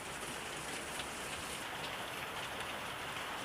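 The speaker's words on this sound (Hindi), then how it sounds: "क्योंकि बारिश थोड़ा सा हो रहा है" Steady rain falls continuously, a dense even hiss with soft patter of drops on surfaces, no voices, constant and moderately loud throughout.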